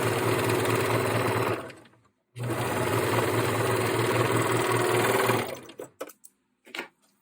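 A serger sews fabric for boyshort underwear, giving a loud rapid mechanical whir in two long runs with a brief pause between them, then short stop-start bursts, close by with no speech.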